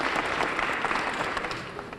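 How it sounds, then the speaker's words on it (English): An audience at a school opening assembly claps as a group, a brisk, dense round of applause that fades slightly toward the end. "let's give Walgreens a hand of applause for that"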